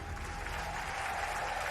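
Audience applause at an Aston Martin F1 team car launch: dense, continuous clapping from a crowd, steady and moderately loud for its brief length.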